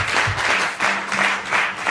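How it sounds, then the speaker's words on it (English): A crowd at a church men and women conference breaks into a short round of applause, a brief burst of many hands clapping that swells in waves. "Can we give a round of applause, please?"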